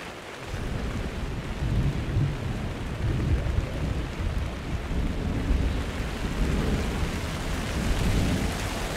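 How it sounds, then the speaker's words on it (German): Steady rain with rolling thunder in the video game Minecraft Story Mode, a continuous dense downpour with low rumbles swelling throughout, no voices. "Doof gelaufen, wenn es regnet."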